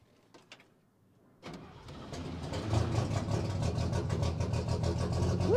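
An International Harvester A120 pickup that sat for 30 years cranks and then catches, its engine coming to life with a rough, steady idle that builds in loudness after a brief quiet stretch with faint knocks.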